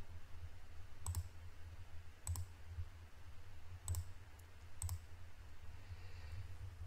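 A few sharp computer mouse clicks in trading software on a computer, spaced about a second apart, faint against a low steady hum with no talk.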